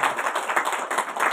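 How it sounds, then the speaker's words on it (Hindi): An audience applauds a team at an event, a steady patter of many hands clapping at moderate loudness with no pauses. "इनके लिए ताली बजा के"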